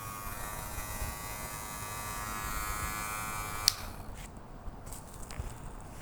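A repaired electric hair trimmer runs with a steady close buzz that cuts off partway through, followed by faint handling clicks.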